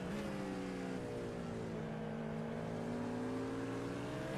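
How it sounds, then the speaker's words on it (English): A race car in a racing video game set at Daytona International Speedway bounces hard off the rev limiter, a loud steady buzzing engine drone held near the limit with a slight pitch wobble throughout, no talk over it. "Matteo Lemire is bouncing off the rev limiter"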